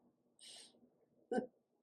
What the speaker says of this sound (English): cardinals sing, but when they call to each other, it's just this little beep